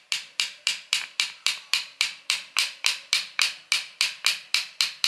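A hammer taps Dana 45 axle gears in an even, rapid series of about fifteen sharp metallic knocks, each ringing briefly before the next, loud and close with no talk.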